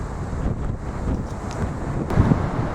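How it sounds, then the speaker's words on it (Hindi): Loud, roaring rush of a fast Himalayan river in Spiti, Himachal, a steady broadband roar with no pause, close and overwhelming, swelling slightly near the end. "नदी की आवाज़ इतनी भयंकर आ रही है कि कुछ भी बोल पाना मुश्किल है।"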